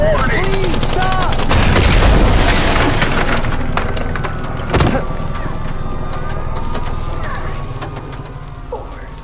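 A rigged door blowing up during a tense police standoff in a Catwoman audio drama, a heavy booming blast followed by rumbling debris, a second sharp impact and lingering low noise.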